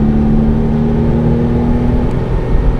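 A modified Porsche 996 Carrera engine hums and revs steadily, heard close and loud from inside the car, a continuous drone with a slight rise toward the end and no talking.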